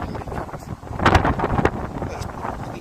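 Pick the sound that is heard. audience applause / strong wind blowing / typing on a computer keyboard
strong wind blowing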